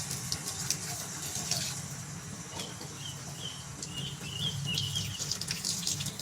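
A shower runs over a dog, steady water splashing continuously close by, with a faint bird chirp or two in the background.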